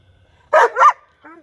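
Two quick, loud barks from a nearby dog, followed by a softer whine after a short pause.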